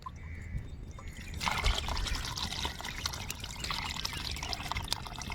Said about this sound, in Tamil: தண்ணி ஃபுல்லாக ஊற்றிக்கலாம் போலையே.